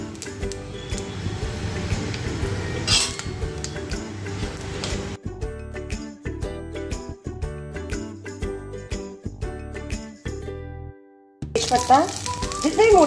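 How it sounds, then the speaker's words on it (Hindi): Cumin seeds hit hot oil in a pan for shahi paneer, giving a steady, close frying sizzle with faint ticking and clinking that runs through most of the stretch. "तेल गरम हो गया है अब इसमें मैं जीरा डालूंगी"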